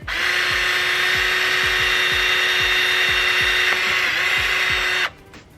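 A power drill bores a hole for a car mud flap on a Honda Civic Type R, a loud, steady high-pitched whine with a faint repeating tick that runs for about five seconds and then cuts off abruptly.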